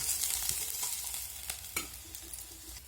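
Ingredients for bottle gourd dal sizzling and being stirred in a pan, a continuous bright frying hiss with occasional scrapes and knocks of the spoon, close and with no voice.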